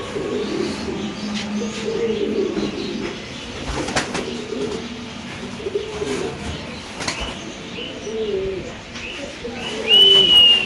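Fancy fantail pigeons, including a yellow one, coo steadily in low, rolling phrases close by, with faint chirps and a brief flutter of wings near the end.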